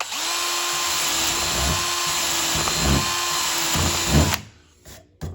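A power drill run at full throttle boring through soft cedar, a loud steady high whine for about four seconds with a faint rhythmic chatter underneath, then cutting off abruptly as the motor winds down.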